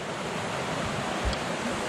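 River water rushes steadily through Linville Gorge at a crossing point, a continuous broadband roar of flowing current with a slight wind-like hiss, constant and fairly near with no talk.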